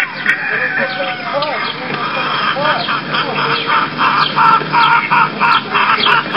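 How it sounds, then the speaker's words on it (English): Roosters and chickens on a farm, several birds overlapping in repeated crowing calls and busy clucking, fairly close and steady throughout with no talk. "here are some roosters and some more chickens"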